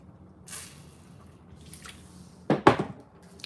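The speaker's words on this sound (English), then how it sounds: "Sorry for my loud drinking." Someone drinks water loudly, with two quick gulping, slurping bursts near the end after a stretch of quiet room sound.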